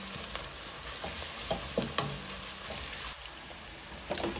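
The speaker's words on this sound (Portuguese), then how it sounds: "A nossa batatinha está a fritar." Straw-cut potatoes frying in hot oil inside a basket give a steady, close sizzle with crackling bursts and soft bubbling throughout; nobody speaks.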